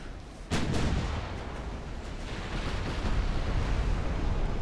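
Naval battle in the video game Ultimate Admiral Dreadnoughts, with a sudden heavy gun blast or explosion followed by a sustained loud roar of gunfire and rumbling detonations.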